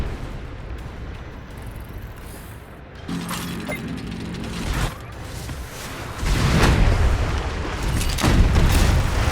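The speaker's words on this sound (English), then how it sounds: "We're under fire." Deep booms and rumbling explosions roll under a steady noisy bed in the strategy video game Anno 2205, during an attack in the Arctic sector, and build in loudness toward the end.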